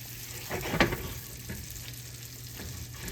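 Brown sugar and butter sizzle and bubble together in a pan for bananas Foster, a soft steady frying hiss with a light stir or clink near the start.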